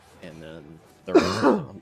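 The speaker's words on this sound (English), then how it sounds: "That was a cough" A single rough cough from a person playing Pokémon Unite, loud and close, following a brief stretch of talk in the same voice.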